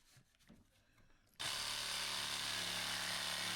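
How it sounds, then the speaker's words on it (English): Quiet handling noises, then a jigsaw starts abruptly and cuts steadily through wood with a loud, continuous buzzing roar. "but I just thought I'd use a jigsaw"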